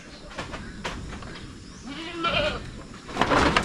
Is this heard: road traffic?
no